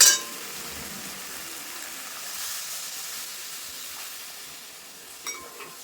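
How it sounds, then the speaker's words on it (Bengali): Water poured into fried spice paste in a pan, a brief burst then a steady soft hiss of steam and sizzling that slowly fades, with a small clink near the end. "এবার পরিমাণ মতো জল দিয়ে দেবো"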